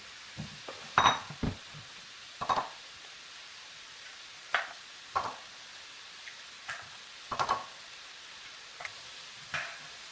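Meat frying in a pan makes a faint, steady sizzle, broken by sharp, separate clicks and knocks of utensils and dishes, close by and at uneven intervals.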